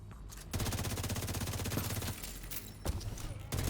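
Sustained automatic gunfire in The Division 2 video game rattles rapidly for a few seconds, pauses briefly, then resumes with a few sharper shots. The bursts are loud and dense, with no speech over them.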